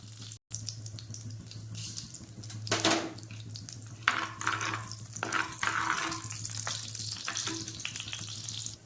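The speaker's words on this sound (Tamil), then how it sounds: "ஊற்றிட்டு எண்ணெய் காஞ்சதுக்கப்புறம் இதில் கொஞ்சமாக கடுகு சேர்த்துக்கிறேன்" Mustard seeds sizzle and crackle steadily in hot oil in a pan, with bursts of sharper popping spattering through the frying, close and fairly loud.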